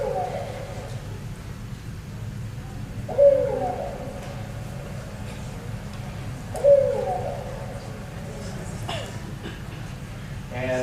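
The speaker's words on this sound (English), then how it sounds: "this is their recording of a barred owl" A played-back recording of a barred owl calling, heard as two short hooting phrases spaced a few seconds apart, moderately loud over a steady low hum of room or speaker noise.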